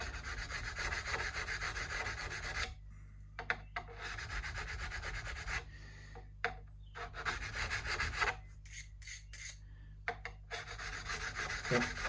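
Close, loud rasping strokes of a file on the metal frets of a left-handed Fender MIM Telecaster during a re-fret, repeated in bursts with brief pauses between them.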